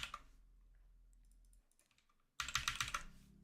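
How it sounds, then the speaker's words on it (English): Fast typing on a Logitech G512 mechanical keyboard, a dense run of sharp clicky keystrokes, close and fairly loud, with a brief pause before a second burst of rapid key presses. "I got a new keyboard again, also, if you can't tell. Mechanical."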